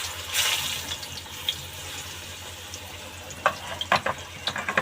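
Ripe bananas frying in a pan over a wood fire, a soft steady sizzle with a few sharper crackles and pops toward the end, no talking.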